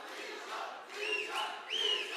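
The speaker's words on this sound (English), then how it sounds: "Crowd coming alive" Crowd at a live MMA fight event rising into cheers and shouts near the end of a round, a steady roar swelling in two louder waves with a few whistles.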